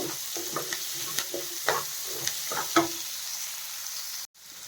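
Curry leaves, onion and green chillies fry in a pan for a lady finger curry, a steady sizzle broken by a series of sharp spatula scrapes and stirs, with no talking.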